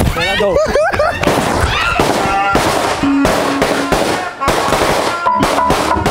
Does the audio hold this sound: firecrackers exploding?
yes